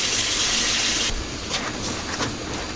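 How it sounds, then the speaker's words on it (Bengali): Water poured into a pan of cooking squash and potato, a strong close gushing rush that cuts off after about a second, leaving a softer sizzling simmer with small bursts. "এরপর যোগ করে নেব হালকা পরিমাণ মতো পানি যোগ করে নিতে হবে"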